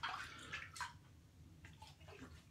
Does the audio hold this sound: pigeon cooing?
no